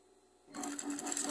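A sewing machine topstitching bias binding on envelope pants starts after a quiet moment and then runs in a steady, fast, close mechanical whir.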